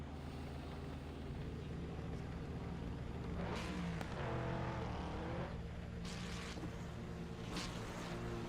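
GT3 race cars pull away on their outlap at Circuit of the Americas, a continuous dense roar of engines droning steadily with a few sharper rising surges, no voices.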